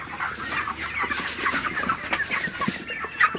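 Broiler chickens clucking steadily in a busy flock inside a poultry house, a dense mix of overlapping short calls at close range with no talking.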